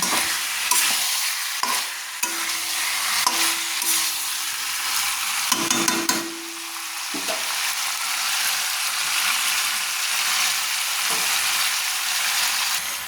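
Soaked potatoes being stirred into a frying goat offal curry, a steady close sizzle with scraping spoon strokes against the pan, continuous and fairly loud with no talk.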